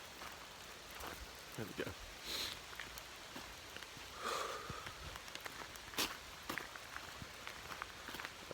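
Light rain patters steadily and faintly on the ground during a walk toward Portland Lake, with a soft scattered drip texture, occasional footstep-like scuffs and a brief spoken remark.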